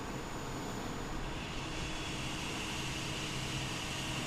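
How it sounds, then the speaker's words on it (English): An Airbus A320 engine spins up during start in Microsoft Flight Simulator, a steady broad jet roar with a rising whine, even and continuous. "so we do have positive engine start"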